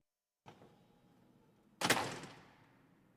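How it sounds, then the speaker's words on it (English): A door swings shut with a sharp, loud thud near the end, preceded by a softer opening rustle in a quiet room. "The door closed behind Michael"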